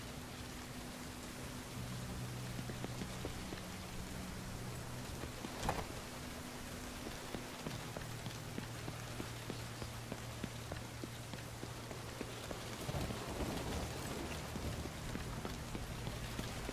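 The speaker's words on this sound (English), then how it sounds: "You can see it's just started raining." Steady rain hisses throughout a scene in the video game The Division 2, with scattered small patters and a low sustained tonal drone underneath, and nobody speaking.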